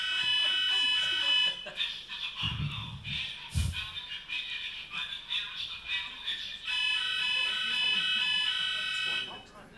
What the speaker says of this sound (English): You've even got e-fire alarm tests.